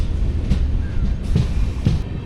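Mangalore Express passenger train pulling out of a station, heard from inside a carriage as a loud low rumble with rhythmic wheel clunks over rail joints.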